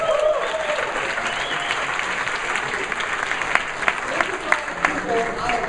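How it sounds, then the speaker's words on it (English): Audience applause in a crowded room at a business opportunity meeting, a dense steady wash of many hands clapping with scattered louder claps, sustained throughout without pause. "give them a round of applause"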